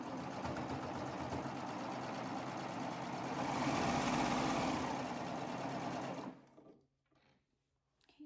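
A sewing machine sews leg band seams on a snap placket garment in one long, continuous close whirring run that swells slightly mid-way and then stops abruptly, leaving faint handling sounds.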